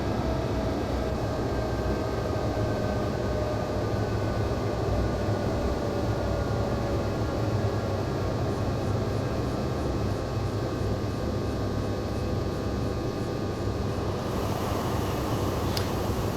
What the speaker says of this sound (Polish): To buczenie przy hamowaniu również się pojawia